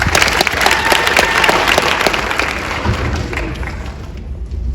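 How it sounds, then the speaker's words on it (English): A high school football awards night audience claps loudly and densely, with a few sharper nearby claps standing out, before the applause starts to thin toward the end. "So let's clap it up for that."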